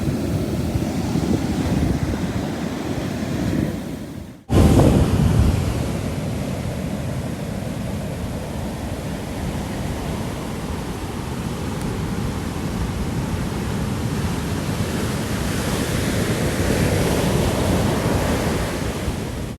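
Steady roar of rough surf washing high onto Azhikode-Munakkal beach in Kerala during the rainy season, with wind rushing across the microphone; the wash continues without a break and stays loud throughout.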